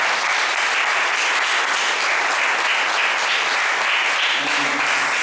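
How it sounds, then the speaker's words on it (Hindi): Loud, steady applause from a church congregation in Vasai fills the whole stretch, dense and continuous with no pauses, with a brief faint tonal hum near the end. "उनको जोर से तालियों से धन्यवाद देते हैं"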